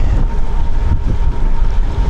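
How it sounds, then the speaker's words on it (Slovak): A strong, gusty north wind buffets close to the microphone in open country near Žilina. The rumble is loud and uneven, surging in rapid bursts throughout, with no talk. "keď sa rozfúka riadny severný, severovýchodný vietor, ako v týchto dňoch. Je naozaj veľmi silný nárazový"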